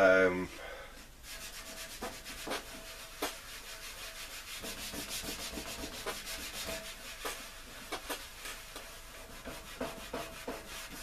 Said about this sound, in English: And I just give that corner there a quick scrub.